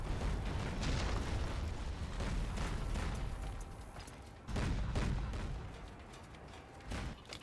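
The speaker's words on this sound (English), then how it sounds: "So yeah, artillery strike on the supply stash, that's a done deal there." A string of heavy booms from an artillery strike hitting a supply stash in a real-time strategy game, dense rumbling blasts rolling on continuously with a few sharper impacts, loud and without talk.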